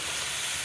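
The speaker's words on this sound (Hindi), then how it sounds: "अब मैं आलू शामिल कर रही हूँ।" Potatoes tipped into hot frying masala in a home kitchen, a steady broadband sizzle filling the short moment at an even level, close and without voices.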